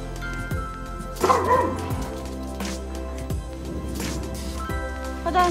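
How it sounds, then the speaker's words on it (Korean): A dog at a sheep farm in the Daegwallyeong highlands gives several yippy barks and whimpers in short bursts, close by, with a person speaking softly between them. "왜 짖어, 너?"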